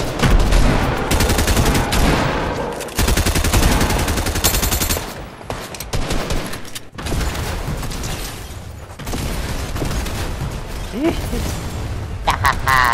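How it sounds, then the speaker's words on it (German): Rapid bursts of gunfire and shots from a Fortnite match play loudly and almost continuously, with heavy booms mixed in, while players talk over the action. "Da kam ein Schuss von hinten."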